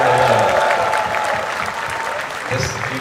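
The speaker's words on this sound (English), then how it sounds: "a big round of applause for this army of musicians here" Audience applause for a large group of musicians at the Amazon Prime Video launch event for The Forgotten Army, loud sustained clapping from a crowd with scattered cheers, easing slightly toward the end.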